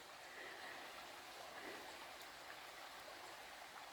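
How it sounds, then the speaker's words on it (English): A soft, steady rush of water tumbles over rocks, faint and continuous, like a small creek heard from a path nearby. "Now we hear the water falling over the rocks here."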